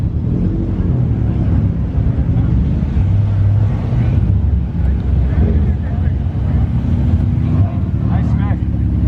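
A BMW F80 track car at a car show gives off a steady, low exhaust rumble that runs throughout, mixed with wind buffeting and people talking over it.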